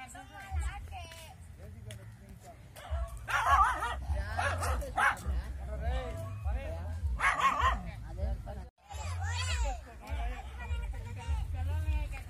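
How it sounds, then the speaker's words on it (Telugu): A dog barks and yips repeatedly close by, with some whimpering between bursts, while people talk over it almost throughout. "ఆ కుక్క చూడు అరుస్తుంది"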